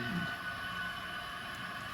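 A long model grain train on old Microtrains trucks runs across a layout, its cars giving a steady, even rolling rumble that fills the whole stretch without any voices.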